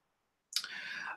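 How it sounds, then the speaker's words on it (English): A tap on the new observation button in an iOS learning journal app makes a single crisp click that cuts in sharply after silence and trails off into a brief, steady bright hiss. "just click on our new observation button"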